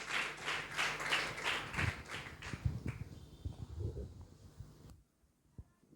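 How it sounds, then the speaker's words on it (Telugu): Congregation in a church clapping in rhythm to welcome the pastor, steady hand claps at first that thin out and stop after about five seconds, leaving near silence with a faint tap. "చప్పట్లు కొడుతూ అయ్యగారిని సాదరంగా ఆహ్వానిద్దాం"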